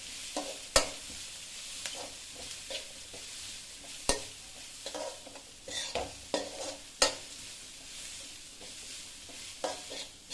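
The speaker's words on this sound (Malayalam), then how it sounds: "ചേർത്ത് കൊടുത്ത കൂട്ട് നമുക്ക് നന്നായിട്ടൊന്ന് ഇളക്കിയിട്ട് കൊടുക്കാം" Spinach stir-fry (cheera thoran) being stirred in a pan, with a spoon scraping and clacking in irregular bursts against a soft, steady sizzle of frying, close and fairly quiet.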